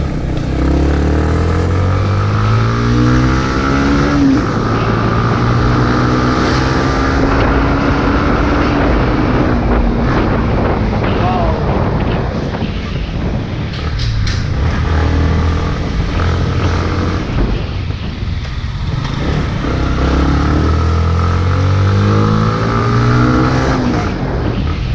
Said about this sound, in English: And the slipper clutch is so smooth in this bike. The gear changes so crisply and so precisely.